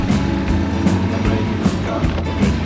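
A heavy, tractor-like engine of a classic retro German motorhome rumbles low and steady from inside while driving, with a faint rhythmic knocking running through the drone.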